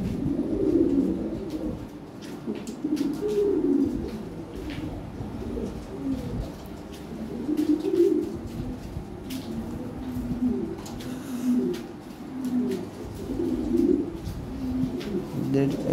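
Lahore Siraji pigeons coo in soft, repeated low bursts throughout, fairly close, with faint bird chirps now and then and some background noise.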